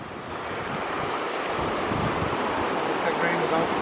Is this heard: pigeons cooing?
no